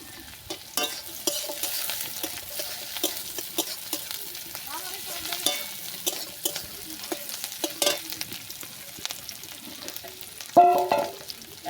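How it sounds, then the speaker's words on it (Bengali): Crushed garlic and slit green chillies sizzle and fry in a pan while being stirred, a soft continuous crackle with occasional sharper spatters and clinks. "দিয়ে দিলাম রসুন, থেতো করা রসুন, আর দেবো কাঁচা লঙ্কা চেরা।"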